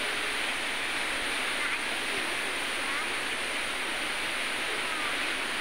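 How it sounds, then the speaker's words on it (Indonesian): Telun Berasap waterfall in Kerinci, Jambi, pours down in a heavy, forceful torrent, a steady, loud, hissing roar that stays constant throughout, heard from a nearby viewing gazebo. "Wah, airnya begitu deras ya teman-teman, sehingga dia berbentuk seperti asap."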